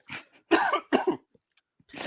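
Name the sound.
cough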